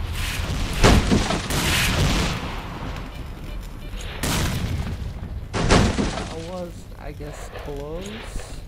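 An exploding barrel in the video game S.T.A.L.K.E.R.: Clear Sky sets off several loud, sharp blasts and crashing bursts spread across the clip, with someone speaking between them.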